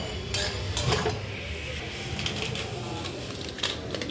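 Vegetables and Maggi noodles are stirred in a pan on a gas stove over a lowered flame, giving scattered scraping clatters and clinks close by against a steady background hiss.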